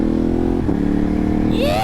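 A Ducati Hypermotard 950 RVE motorcycle with its exhaust baffle removed roars loudly and close, a steady engine drone that dips briefly before revving up in a rising pitch sweep near the end.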